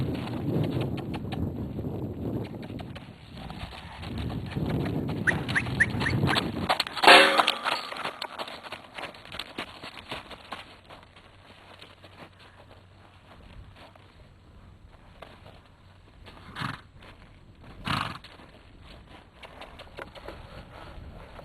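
A horse moves about during groundwork and saddling, with a few scattered hoof clops over steady low rumbling and wind, including a louder knock and thumps near the end.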